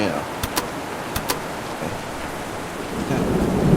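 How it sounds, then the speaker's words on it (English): Steady, dense rain in a horror video game hisses throughout, growing slightly heavier near the end, with a few brief clicks over the top. "That rain is getting loud."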